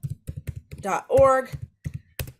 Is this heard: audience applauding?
no